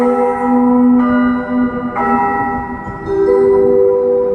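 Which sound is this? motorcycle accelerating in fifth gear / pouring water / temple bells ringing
temple bells ringing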